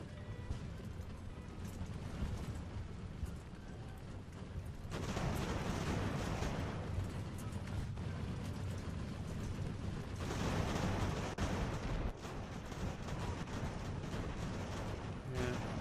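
Cannon and artillery fire in the naval battle game Ultimate Admiral: Age of Sail, a dense, continuous rumble of booming shots that swells louder in bursts around the middle and later stretches, with no voices.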